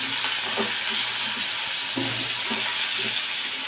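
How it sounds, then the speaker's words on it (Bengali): Potatoes and pointed gourd frying in oil in a wok for a vegetarian mung dal dish, a loud steady sizzle with occasional stirring scrapes and clatters, no voices. "কড়াইয়ে তেল দিয়ে আলু পটলগুলো ভালো করে ভেজে নেব"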